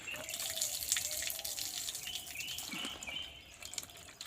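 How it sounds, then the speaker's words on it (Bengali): Tap water runs while fish fat is rinsed in a kitchen sink, a faint, close trickle with small splashes and drips as the pieces are handled, without talk. "জলও চলে এসছে, ভালো করে ধুয়ে নিই।"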